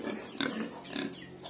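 A healthy pig on a farm gives low, soft grunts at close range. The snorting comes in short bursts over a quiet background.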